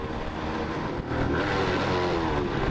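Suzuki AX 100 two-stroke motorcycle revving while riding, a brief dip near one second as the gear slips to neutral, then a rising buzzy rev, close and fairly loud.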